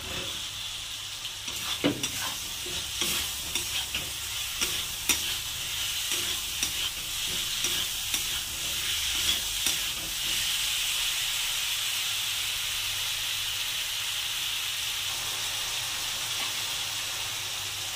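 Pieces of fried elephant foot yam and potato are stirred in a sizzling pan for a hilsa curry, with a utensil scraping in repeated close strokes over a steady hiss of hot oil and no talking.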